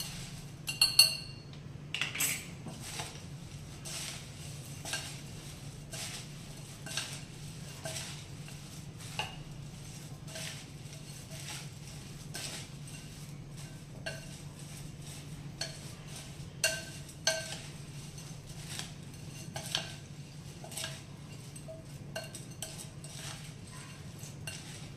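A spoon stirs puffed-rice jhal muri dressed with mustard oil in a bowl, giving a steady run of light metallic clinks and scrapes over a soft, low background hum.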